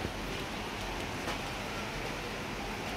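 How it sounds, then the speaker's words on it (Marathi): Steady rain falls outside a house during a heavy, ongoing downpour, a continuous broadband wash of patter at even loudness, fairly close, with no voices. "नाही तर बघा पाऊस"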